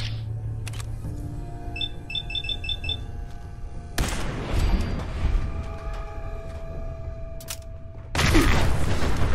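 A Protectron robot in Fallout 4 blows up with a sudden loud burst, leaving a harsh, noisy rumble over synthetic game beeps and tones, then a second heavy blast near the end.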